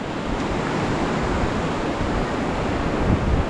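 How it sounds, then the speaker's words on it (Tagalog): Steady, loud broadband roar of wind in the rain beside a flooded river after a typhoon, continuous throughout, with a rushing, surf-like texture and no talking. "ayun nandito na naman yung hangin"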